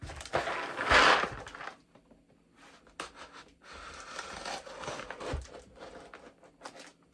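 Packing tape is ripped off a parcel of yarn and craft supplies during an unboxing: one loud, sharp tear near the start, then quieter intermittent scraping and peeling bursts in an otherwise hushed room.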